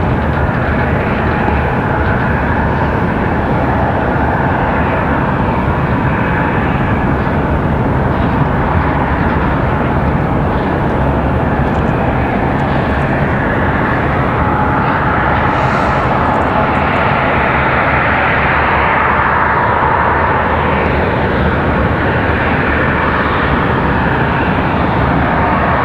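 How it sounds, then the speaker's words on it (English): A Lufthansa airliner on final approach into Raleigh-Durham gives off a loud, continuous roar of jet engines that fills the whole span without letup, and no one speaks. "Lufthansa making their final turns, so we'll have to get the camera ready for that arrival."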